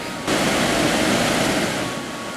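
Water rushing and pouring into carved lines in a Professor Layton puzzle game, a steady broadband wash that swells in loudly after a quiet start and flows continuously without voices.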